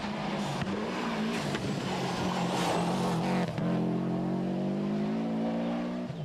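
A Subaru Impreza rally car on a tarmac stage of the 1994 Rally of the Lakes roars loud and close. Its engine revs hard through gear changes, with tyre noise along the stage.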